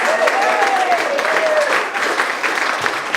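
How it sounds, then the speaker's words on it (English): An audience at a campaign event for a Marin County supervisor candidate bursts into loud, sustained applause, with a thin whistle or cheer rising briefly above the dense clapping. "you need to applaud him for that."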